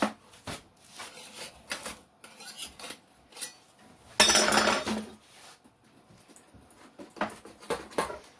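Fresh homemade baked bread being worked out of a metal pan, with scattered clinks, taps and scraping close by and one loud rough scrape in the middle.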